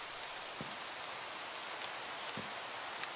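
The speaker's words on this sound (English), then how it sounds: "And it's raining." Rain in the Minecraft video game, a steady hiss of falling drops with a few soft patters standing out, even and continuous with no voices.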